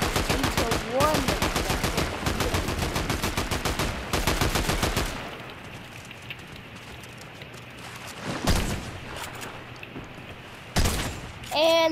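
Rapid automatic gunfire from a video game shooter: a fast, loud burst of close shots for several seconds, then scattered single shots and brief bursts over background noise and quieter game sounds.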